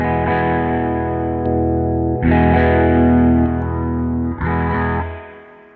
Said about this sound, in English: And then of course there's the band pass.